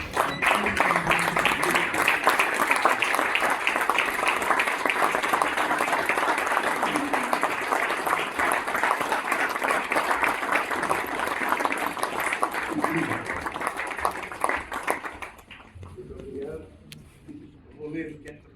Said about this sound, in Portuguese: pedimos a todos que se levantem para receber uma calorosa salva de palmas o nosso homenageado Dr. Lucas da Cruz, que recebe esta placa.